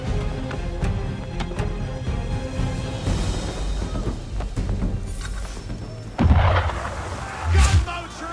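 Booming cannon fire from gunboats in the video game Assassin's Creed III, with heavy blasts and rumbling amid the noise of a sailing ship, under shouted voices.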